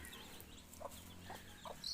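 Free-range Peruvian hens with chicks foraging outdoors give a few soft, short clucks at intervals over low rustling background, fairly faint and without any talk.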